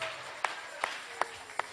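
Church congregation clapping in a slow, even rhythm, four distinct claps spaced apart, fairly faint over a low background hum.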